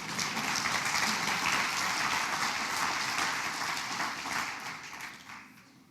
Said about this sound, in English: Applause for Norman Davies.